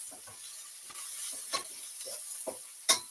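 Chopped garlic and tomatoes stir-fry in a pan. A soft sizzle runs under short, repeated spatula scrapes that come at a loose, uneven rhythm, close and moderately loud.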